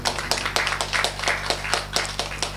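Audience clapping for a coach at a sports association committee installation in Saint-Marc, a steady run of many hands with rhythmic peaks, fairly close and loud, with no voices over it.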